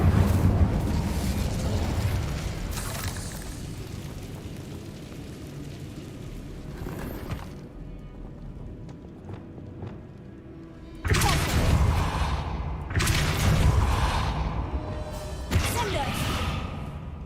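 Incendio fire spell cast in Hogwarts Legacy, loud whooshing bursts of flame with booming impacts, several blasts in quick succession after a quieter stretch.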